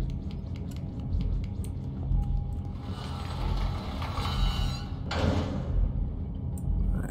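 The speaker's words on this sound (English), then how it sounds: "Door shut." A heavy door shutting in the Little Nightmares video game, with mechanical creaks and sliding scrapes building to a dull thud partway through, set against a low, rumbling game ambience and no speech.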